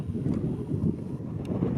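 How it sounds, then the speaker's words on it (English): Strong wind buffets the microphone with a steady low rumble and roar on an outdoor high point during a coyote hunt, no talking. "It's just so windy right now,"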